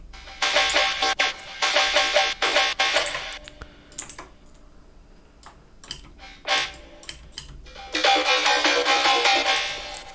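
Resampled synth sound from a sound design session for a dubstep-style track: bursts of clicky, ticking texture, loud and busy at first, thinning to sparse clicks in the middle, then surging back.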